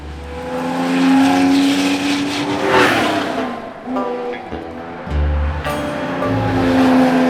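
A 1970 Porsche 911T's engine revs loud and close, the note rising and falling through several throttle blips, with a brief drop-off near the middle before it picks up again.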